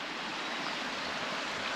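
A creek runs somewhere below a steep bush walking track near waterfalls, giving a steady broad rushing hiss that goes on without a break. It sounds fairly close and even, with no talk.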